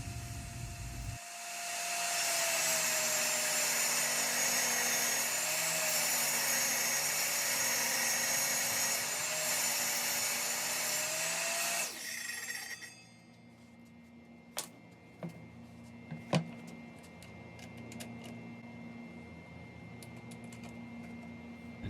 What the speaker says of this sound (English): Then I ran the jig through the table saw, making sure that the blade was high enough to make the cut.